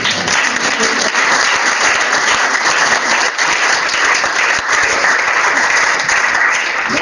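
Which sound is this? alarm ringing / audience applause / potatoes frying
audience applause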